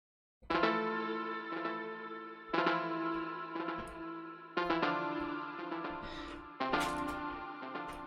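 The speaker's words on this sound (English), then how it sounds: "It's SY99 synth OC MK2" An afro-house melody on an SY99 synth plays in four repeated phrases, each opening with a bright attack and decaying chord-like tones with low plucks beneath, clean and alone.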